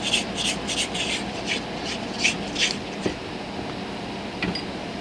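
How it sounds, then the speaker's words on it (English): Bread dough for kaiser rolls is scraped off a mixer's dough hook, giving soft, close rubbing and rasping strokes in short bursts, moderately loud, with no talk. "And scrape the dough hook off."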